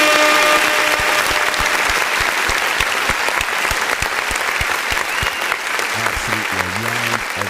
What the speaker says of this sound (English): Ladies and gentlemen, let's give her a round of applause.